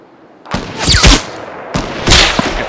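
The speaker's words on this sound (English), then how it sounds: "He shot at me." Gunfire in a video game, two close, loud bursts of shots about a second apart, each with a boomy tail, with no talking.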